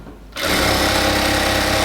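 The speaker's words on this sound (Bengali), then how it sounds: "আস্তে আস্তে ধরে ধরে উপরের দিকে সেলাই করব আমরা, যাতে কোনো রকম কোনো সমস্যা না হয়।" A sewing machine runs lock stitching up a ladies' pant leg, starting after a brief quiet moment and then whirring at a loud, fast, steady rhythm close by, with no talk.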